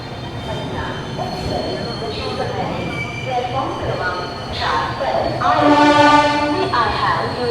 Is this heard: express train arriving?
yes